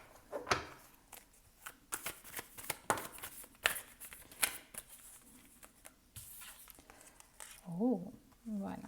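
Tarot cards being shuffled and handled, with a series of papery flicks and soft slaps at close range. A voice speaks briefly near the end.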